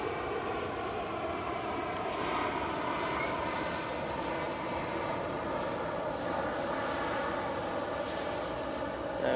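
A passenger jet at Manchester Airport produces a steady, loud engine roar that holds evenly throughout, with no voices over it.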